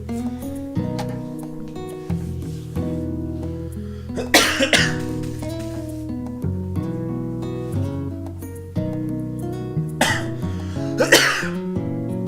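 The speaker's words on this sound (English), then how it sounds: "There you went, 30 seconds of me coughing." A man coughs hard in two separate fits, a few loud harsh bursts each, close to the microphone over steady background video game music.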